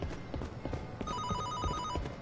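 A telephone bell rings in a short trilling burst partway through, fairly faint and mixed with background movement and muffled footsteps.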